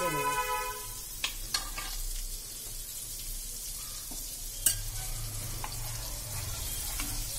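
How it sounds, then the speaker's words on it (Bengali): Chicken pieces for tikka masala sizzle steadily in melted butter in a pan, a continuous close frying hiss with a few sharp clinks and stirring knocks scattered through it. "এবার প্রত্যেকটা চিকেনের পিসকে আমি এর মধ্যে দিয়ে দিয়ে ভেজে নেব"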